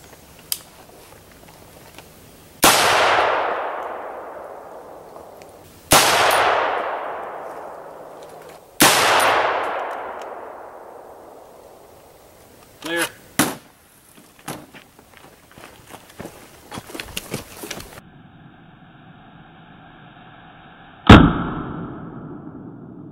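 A DPMS Panther Arms AR-10 fires 7.62x51 rounds outdoors in three loud, evenly spaced cracks, each ringing off in a long echo, followed by metallic clicks, clanks and a final sharp knock.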